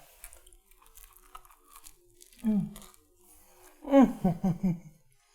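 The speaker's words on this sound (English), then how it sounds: "let me go ahead and take a little bite of my sandwich here" Someone bites into and chews a breakfast sandwich of sausage, egg, cheese and tomato: quiet close-up crunches and mouth sounds, with a bite around the middle and a louder cluster of chewing afterward, over soft background noise.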